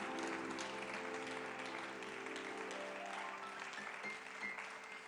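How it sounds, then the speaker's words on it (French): Faint, continuous applause from an audience at a Christian church event, a steady wash of clapping heard under sustained musical tones. "Mais vous pouvez continuer d'applaudir si vous le voulez."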